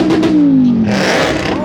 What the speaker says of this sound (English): Oh, I hear a V10.